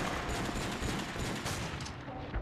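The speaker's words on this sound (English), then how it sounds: "Someone's shooting the ground." Dense, rapid gunfire rattles continuously in Call of Duty: Modern Warfare, with overlapping shots and impacts at a moderate level and no speech over it.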